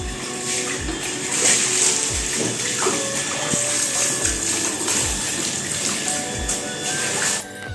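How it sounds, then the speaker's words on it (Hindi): Water rushes continuously down stairs being washed during household cleaning, a steady splashing flow with occasional low thumps, fairly loud and with no talking. "ये सीढ़ियाँ मैंने अभी धो दिया पानी से"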